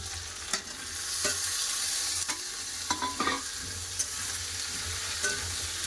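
Ridge gourd, potato and onion being stir-fried in a pan, a steady sizzling hiss punctuated by repeated scraping and knocking strokes of a spatula, close and clear with no talking.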